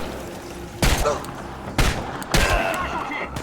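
Three sharp gunshots ring out in the video game Chernobylite, spaced irregularly against a quiet background, each loud and near.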